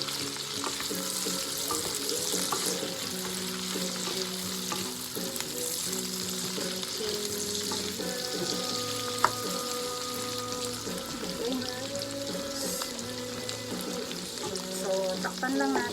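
Pork, mushroom and asparagus fry in a pan with a dense, steady sizzle, broken by occasional stirring scrapes and clinks throughout.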